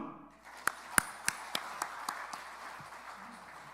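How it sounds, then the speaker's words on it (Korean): A church congregation during a sermon gives a short burst of applause, about half a dozen distinct claps spaced close together that quickly fade into low room murmur. "박수!"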